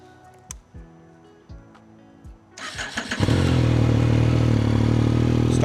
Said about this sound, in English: now we're gonna go ahead and start the bike for the first time